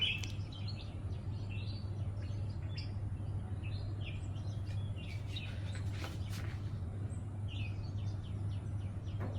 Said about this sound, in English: I hope you can hear the birds chirping behind.